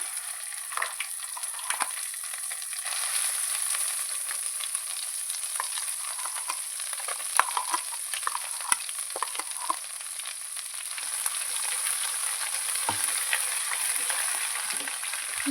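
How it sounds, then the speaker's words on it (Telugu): Fenugreek leaf chutney hits hot tempering in a pan and fries with a steady, dense sizzle. Frequent scraping and stirring knocks break through for the whole fifteen seconds. "తాలింపు వేగిపోయింది ఇప్పుడు మనం ఈ పచ్చడి ఇందులో వేసేసుకోవాలి"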